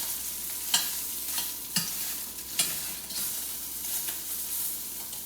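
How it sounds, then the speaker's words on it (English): Food sears in a hot pan with a soft, even sizzle, punctuated by a few sharp clinks and scrapes as pieces are placed or moved. "we are going to sear these in a clockwise position"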